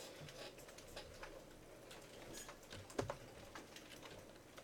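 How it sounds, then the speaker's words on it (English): Computer keyboard keys tapped in an irregular run of soft clicks while code commands are entered during a first-day programming class demo, with one sharper keystroke standing out, heard close against a steady room hum. "now I'm going to type in some commands."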